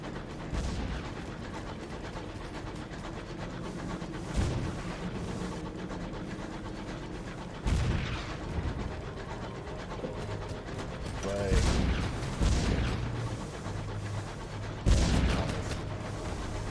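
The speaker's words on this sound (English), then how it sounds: "I hear explosions at the distance." Distant explosions and gunfire from the video game Sunless Skies, set in a flying train, come as muffled booms and crackling bursts every few seconds over a steady rumbling engine-like drone.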